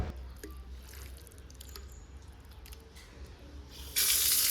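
Pork pieces are washed under running tap water in a kitchen sink, with a steady close splashing flow and soft squishing that surges suddenly louder near the end as the tap opens fully.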